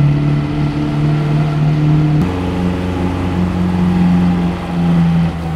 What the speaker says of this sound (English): take a drive up Heslerton Hill in North Yorkshire and up onto the Yorkshire Wolds to see how the little 1104cc twin cam would cope